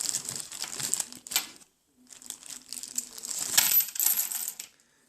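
Coins dropping into the coin slot of a Meloman M 110 jukebox, a run of close metallic clinks and rattles, a short pause, then another rattling cascade of coins sliding down the mechanism.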